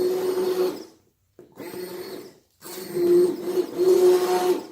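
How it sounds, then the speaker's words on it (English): An immersion blender whirs through chunks of carrot, celery, onion and ginger in a soup, running in three loud bursts with short silent pauses between them. "all we're doing is blending up all these little pieces of carrot and celery and onion and ginger"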